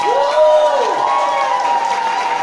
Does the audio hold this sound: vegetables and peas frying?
no